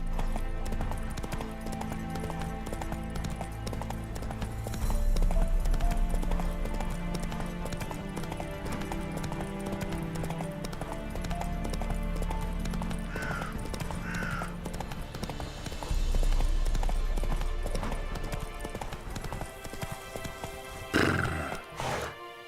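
Roach the horse gallops in The Witcher 3, with steady, close clip-clop hoofbeats and an occasional whinny over a dense, continuous game score.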